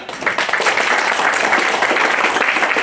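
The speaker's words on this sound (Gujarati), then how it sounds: "ઉષા મેડમ માટે ખૂબ ખૂબ તાળીઓ" An audience at a health awareness session on children's sleep applauds for someone speaker, a dense, steady burst of clapping filling the room without pause.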